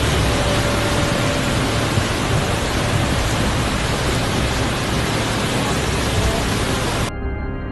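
Steady roar of heavy rain pouring down, a dense, continuous hiss at constant loudness for about seven seconds before cutting off abruptly.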